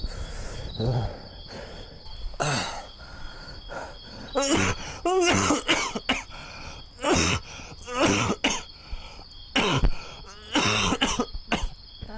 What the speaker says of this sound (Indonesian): Habis dah batuk abang ni.